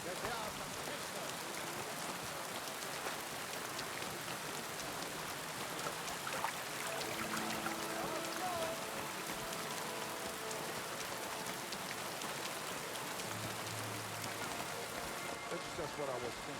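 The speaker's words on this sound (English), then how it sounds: "Don't mind the rain." Rain in the video game Kingdom Come II, a steady hiss of drops pattering on surfaces, with soft tonal game sounds drifting in and out beneath it and no voices heard.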